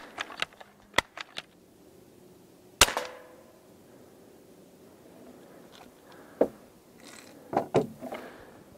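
A modified Crosman 760 air rifle firing during a muzzle velocity test: a few sharp, isolated cracks spaced several seconds apart over quiet room background, with small handling clicks between.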